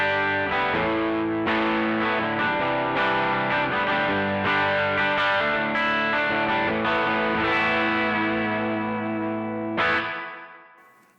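An electric guitar plays sustained chords and picked notes through the spring mode of a TC Electronic Arena reverb pedal, each attack blooming into a long ringing tail, with a final strum that decays away.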